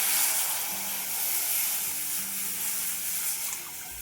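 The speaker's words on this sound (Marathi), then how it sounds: "आता आपण तयार केलेलं ताकाचं मिश्रण कढईत घालूया" A buttermilk mixture pours into a hot kadhai with a soft, continuous hissing, watery rush that holds steady and eases slightly near the end, for a Marathi-style takachi kadhi.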